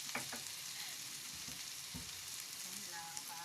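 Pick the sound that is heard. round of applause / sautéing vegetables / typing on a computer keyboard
sautéing vegetables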